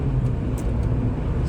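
Steady engine drone and road noise inside a Mitsubishi Townbox wide kei van with a four-speed overdrive gearbox, cruising at 60 mph around 3,500 rpm, continuous and loud with no talk.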